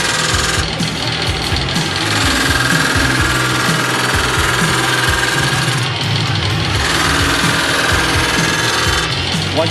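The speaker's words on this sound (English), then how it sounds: "when you're doing final cuts on your lathe turning, you want to be running at a fairly fast speed, between 16 to 1900 RPM" A wood lathe spinning fast, around 1600 to 1900 RPM, during final finishing cuts on a turned ball and taper, giving a steady loud mechanical drone with rattling, chattering contact noise throughout.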